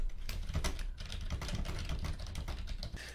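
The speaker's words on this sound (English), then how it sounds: "as I start typing within this window" Fingers type on a computer keyboard, a steady stream of close, rapid key clicks and taps with uneven rhythm and no speech.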